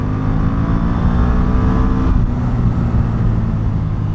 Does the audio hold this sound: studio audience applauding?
no